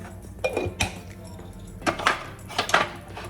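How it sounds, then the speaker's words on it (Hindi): A metal spoon keeps stirring mixed dry fruits frying in a pan, giving a few quiet, irregular clinks and scrapes against the pan over a low background. "आपने इसमें मुसलसल चम्मच हिलाते रहना है ताकि जितने भी मेवे हैं सारे इक्वली"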